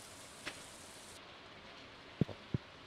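Rain falls in the Stardew Valley video game as a soft, steady hiss of game ambience, with a few quiet low thumps near the end.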